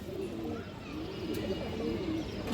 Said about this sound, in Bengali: মাশাল্লাহ খুবই সুন্দর কবুতর